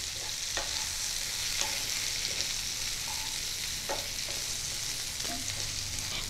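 Salted, turmeric-coated brinjal pieces frying in oil, a steady moderate crackle and sizzle with occasional spoon scrapes and bursts of spatter, no voices.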